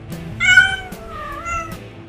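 An unneutered male cat caterwauls a mating call: two drawn-out, wavering yowls, the first louder and higher, then a lower, fainter one, close by and alone without talk.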